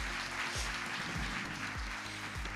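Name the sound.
audience applause for upline Radha ji and Arvind ji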